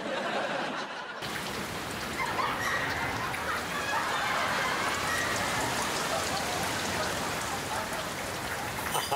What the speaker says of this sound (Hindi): और तिवारी जी, मजा लूट रहे हैं बरसात का है?